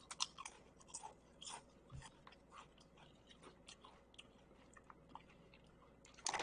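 Crunchy barbecue honey Rap Snacks potato chips being chewed, with faint crisp crunches and mouth sounds close by over a low background hiss. A louder rustle comes at the very end.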